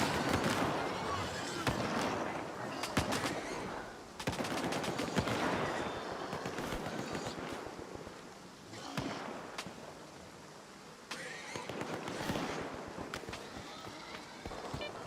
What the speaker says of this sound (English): Oh, like somebody's gun is jamming.